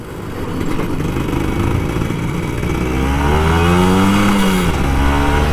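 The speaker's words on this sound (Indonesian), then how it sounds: "pakai motor 2 tak dengan suara cemprengnya" A two-stroke Kawasaki Ninja RR 150 motorcycle engine revs up close, its buzzy, high-pitched whine rising and climbing in pitch as it accelerates.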